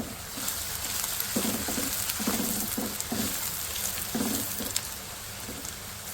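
Two medium onions, finely chopped, fry in hot oil for a spicy potato curry, a steady loud sizzle with repeated scraping stirs over it.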